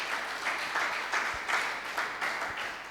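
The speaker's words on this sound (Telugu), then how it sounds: "గట్టిగా చప్పట్లు కొట్టాలా." A church congregation claps loudly together in a sustained burst of applause, the clapping surging in waves and then easing.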